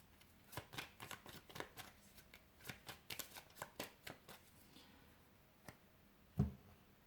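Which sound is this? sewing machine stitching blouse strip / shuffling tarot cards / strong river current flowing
shuffling tarot cards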